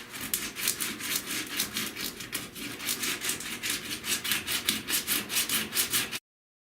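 Body filler being sanded by hand during car rust repair while still partly soft, a steady rhythmic rasping of quick back-and-forth strokes, close and fairly loud, ending abruptly.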